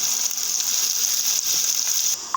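Onions and green chili frying in oil in a pan for a quick prawn dish, a steady close hiss and sizzle that runs unbroken and fairly loud, then drops slightly near the end.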